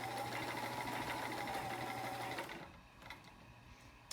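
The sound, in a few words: vintage Sears Kenmore 158.14300 heavy duty sewing machine stitching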